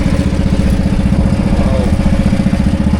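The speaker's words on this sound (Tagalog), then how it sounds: "Walang tigil yung makina." A small fishing boat's engine runs close and loud with a steady, fast, throbbing clatter that holds an even rhythm throughout, with no talk over it.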